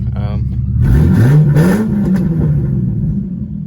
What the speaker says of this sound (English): nothing like driving this down the main street of my town